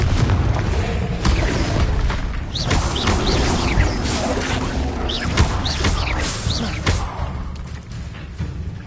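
In Hogwarts Legacy, the Confringo blasting spell goes off in a dense run of booms, crashes and whooshing bursts, loud and close, tapering off toward the end.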